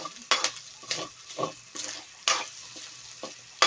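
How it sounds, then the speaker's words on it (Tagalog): Pork ear sisig with pepper being stirred in a frying pan: a low steady sizzle broken by repeated quick spatula scrapes and taps at an uneven rhythm, close by and fairly quiet, with no voices. "Habang hinahalo"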